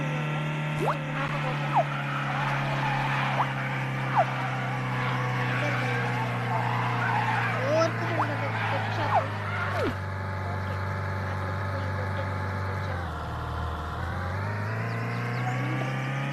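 A car in the video game Wobbly Life hums at a steady engine pitch, with the tone dipping and rising as it drifts late on, while someone talks over it.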